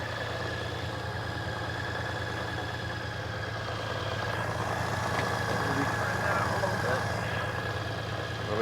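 A 2018-or-later Honda Goldwing DCT motorcycle engine idles steadily up close, a low, even hum with a constant throb and no change in revs.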